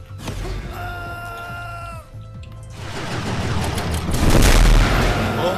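A grenade goes off in the video game Magicka: the mixed game sounds and tones give way to a heavy, rumbling explosion whose noisy blast builds and lingers for several seconds.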